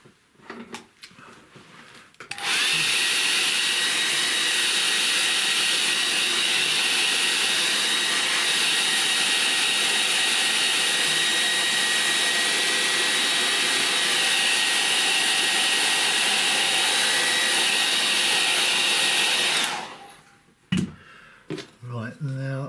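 A hair dryer blows on a painting in a loud, steady whoosh that runs for about seventeen seconds, then cuts off. Brief quiet handling noises come before and after it.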